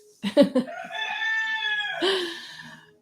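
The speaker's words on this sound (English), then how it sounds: "Please excuse my rooster." A rooster crows a long, drawn-out cock-a-doodle-doo nearby, preceded by a few short clucks, loud against a quiet background.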